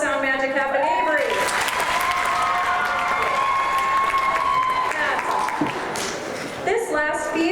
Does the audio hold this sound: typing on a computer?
no